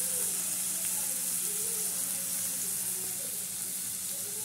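Tempering (tadka) sizzling steadily in hot oil for spinach moong dal, a continuous close frying hiss with no talk over it.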